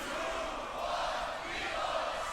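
A crowd at the Grand Beatbox Battle 2021 tag team semi-final shouts together in a loud, roaring mass of voices that swells and holds for a couple of seconds.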